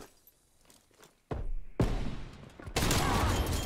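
Gunfire in Call of Duty: Black Ops Cold War on the NukeTown map, with a shotgun in use: a few abrupt, loud blasts after a quiet start, followed by a dense, sustained burst of shooting.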